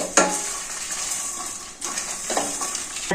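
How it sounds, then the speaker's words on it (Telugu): Grated coconut fries in a pan with a carrot fry, a steady soft sizzle broken by a few sharp clinks as the mix is stirred, with no talking. "చివరిగా కొబ్బరి వేసి వేయించుతున్నానండి"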